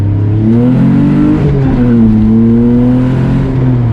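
A Toyota Celica engine revs loudly and steadily up close, its drone rising and dipping as it shifts into second gear, with no voices over it.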